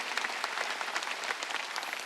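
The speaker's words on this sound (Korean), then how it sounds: "박수 치라 이거예요." Church congregation at a Sunday worship service applauding, a dense, even clapping from many hands that fills the whole moment.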